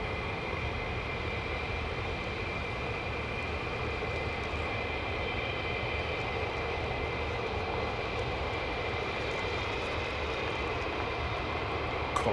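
Fighter jets of the 48th Fighter Wing produce a continuous, moderately distant roar. The rumble holds steady without a break for about twelve seconds, with no voices over it.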